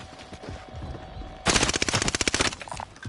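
Rapid bursts of automatic gunfire from the video game Call of Duty Warzone, a loud, dense fusillade of shots lasting about a second before tapering off, following quieter game ambience.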